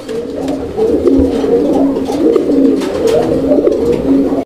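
Pigeons at a pigeon market in Bangladesh coo repeatedly in soft, rolling low calls, close by and continuous, with a faint background hum and no talking.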